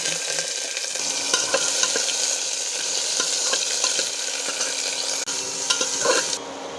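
Chopped vegetables drop into a pan of hot oil with cumin seeds and bay leaf, setting off a loud, steady sizzle with scattered stirring scrapes and clinks running throughout until it quiets near the end.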